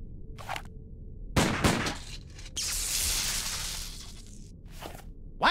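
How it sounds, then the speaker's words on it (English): Gunfire in the Sam & Max video game as lights get shot out: a few sharp cracks followed by a long noisy burst and a later shot, loud with no speech. "Sometimes you just gotta shoot out a few lights."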